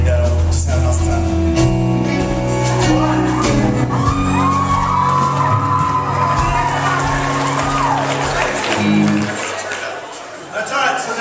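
A worship concert crowd screams, whoops and cheers loudly and continuously, with music and amplified voices filling the room.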